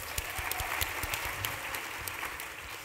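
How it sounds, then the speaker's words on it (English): Steady applause from a conference audience at a child protection summit general session, a dense wash of many hands clapping continuously with a few sharper claps standing out, moderately loud and with no talking over it. "Pause for applause in each one"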